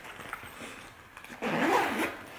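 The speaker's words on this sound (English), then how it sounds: "and zip it back up." A diaper bag zipper on a Petunia Pickle Bottom City Carryall is pulled closed in one quick, rasping sweep after a few soft rustles.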